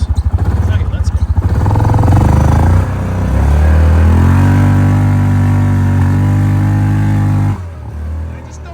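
A motorcycle engine running rich, stumbling slightly while idling and revving, loud and close with a steady throbbing drone throughout.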